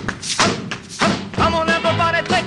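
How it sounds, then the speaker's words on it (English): Loud stomping feet in a sing-along, heavy thuds landing in an irregular rhythm, mixed with voices and tonal singing near the end. "Come on, everybody, and stomp your feet real loud."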